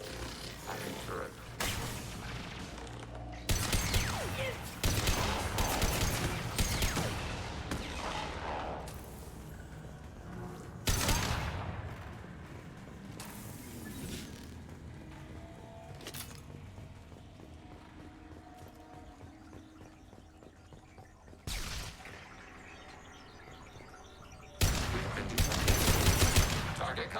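A hacked defensive turret in Mass Effect firing bursts of automatic fire with mechanical clatter, recurring loud volleys separated by quieter stretches, with game voices and effects around them.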